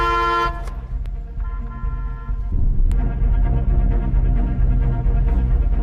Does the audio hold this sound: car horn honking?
yes